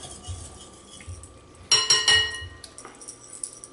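An egg, sugar and milk mixture for bread pudding is stirred in a bowl, with quiet rustling followed by a short run of bright metallic clinks against the bowl and a few softer taps.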